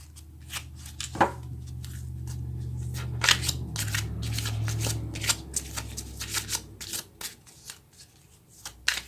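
Cards drawn from a deck during a card reading: close, dry riffling and rapid papery flicks in quick bursts, with sharper snaps near the end; no voices.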